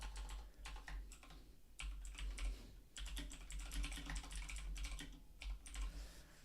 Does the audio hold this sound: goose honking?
no